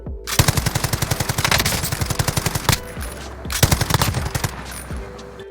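Rapid automatic gunfire in Warzone, close and loud, fired in two sustained bursts of quick rhythmic shots with a short pause between them.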